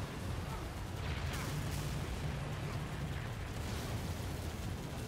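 Explosions and gunfire from a Halo 3 battle as players shoot at the legs of a Scarab walker, a dense, continuous roar of blasts and booms that stays loud for the whole stretch.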